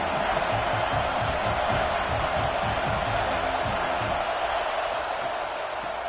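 A packed football stadium crowd roaring at Alabama's Saban Field on third down against Michigan, a steady, loud wash of noise throughout with low rumbling beneath.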